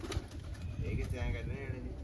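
Low, murmuring pigeon coos repeat close by on a rooftop under a voice, with a steady hum in the background.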